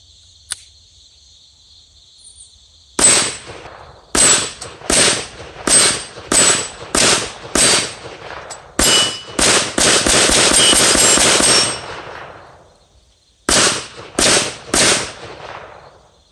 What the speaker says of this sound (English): So let's move this camera up and we'll shoot the dueling tree.